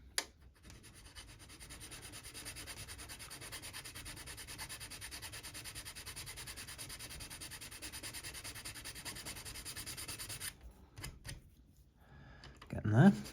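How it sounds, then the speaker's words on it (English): A file works the plastic hull of an RMS Mauretania model ship in rapid, regular rasping strokes, up close for about ten seconds. The strokes stop and a voice is briefly heard at the end. "The lovely noise of filing."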